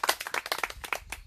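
At a book concert, a small audience gives a short burst of clapping, a quick run of distinct, close hand claps lasting about a second.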